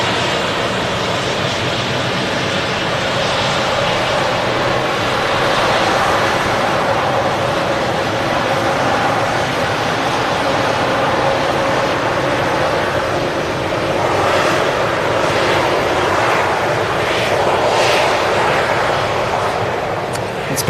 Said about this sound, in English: taxiing past us is a Austrian Embraer 195 from Vienna